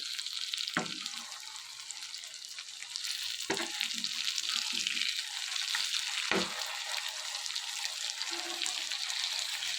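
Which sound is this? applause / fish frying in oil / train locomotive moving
fish frying in oil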